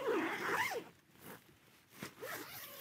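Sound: zipper on a tent being opened or closed

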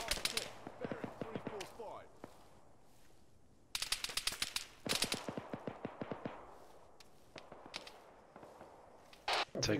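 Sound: gunfire from a base in the video game ARMA 3

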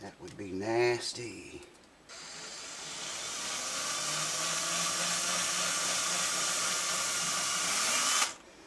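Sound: drill boring into wooden guitar headstock

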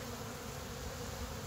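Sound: honeybees buzzing at a hive feeder

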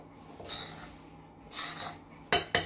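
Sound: mixing roasted sesame, copra and sugar powders in a bowl

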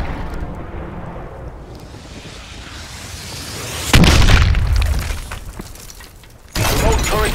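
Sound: orbital care package landing in video game Call of Duty: Advanced Warfare

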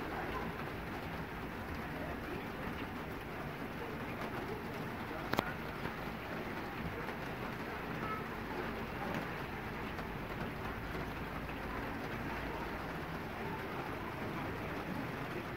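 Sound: heavy rain

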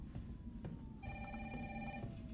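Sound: telephone ringing in video game Resident Evil 3

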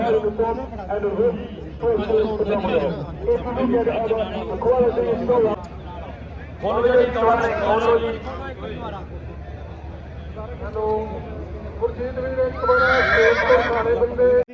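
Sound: mare (horse) neighing and hooves clip-clopping

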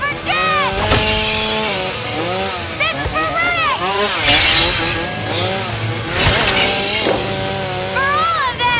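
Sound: chainsaw in film scene

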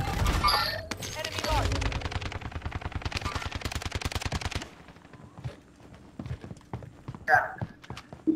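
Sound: gunfire in a video game

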